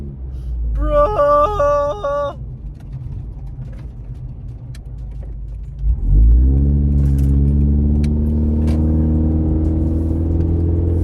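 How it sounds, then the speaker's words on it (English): Scion tC engine after a transmission shift solenoid replacement, jingling keys first, then the engine starts and drones loudly and steadily, pitch rising as it revs and shifts gears. "Now, it is switching gears."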